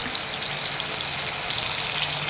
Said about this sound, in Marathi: त्याच्यामध्ये आपण ही कांदा लसूण आणि आलं याची जी पेस्ट बनवली आहे ती घालूया